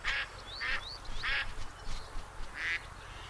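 Ducks quack in a video game hunting scene, with several loud nasal calls repeating in short bursts over about three seconds and no talk.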